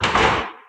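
A kitchen drawer in a modern house's modular kitchen sliding open, a single short rolling thunk that fades quickly, close and fairly loud, with no talk over it.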